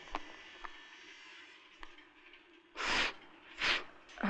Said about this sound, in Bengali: নাক টানছো তো।